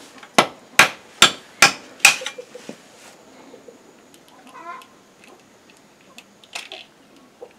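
Light mallet cracking tucum palm nuts one at a time: five sharp, loud knocks in a steady rhythm, then softer scattered taps and rustling, with no talk.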